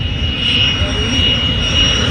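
A Cessna A-37B Dragonfly jet pulls up and departs at the Central Coast Airshow, a loud, steady jet roar with a high whine that fills the whole stretch without a break.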